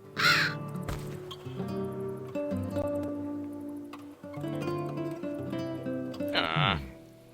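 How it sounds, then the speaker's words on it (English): A raven caws a couple of times in the video game King's Quest: Mask of Eternity, sharp calls near the start and end over layered, sustained game music. "There's that raven again."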